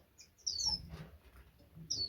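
Finches in an aviary shed give short, high chirps in a few separate bursts, the loudest near the middle, over faint background noise.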